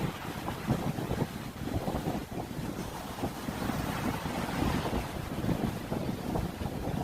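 Strong wind buffets the microphone at the shore at low tide while waves wash in, making a dense, continuous roar with gusty rumbling surges and no voices.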